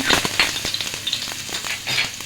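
Chopped onions drop into hot oil in a pan where dried chillies were just fried, a close, loud crackling sizzle with irregular sputtering pops as the pieces start to cook.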